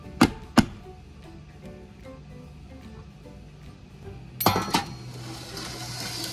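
A puto cake tray of batter being tapped against a surface to knock out bubbles before steaming: two sharp metallic clanks, a quiet pause with faint kitchen hum, then a quick cluster of tray knocks.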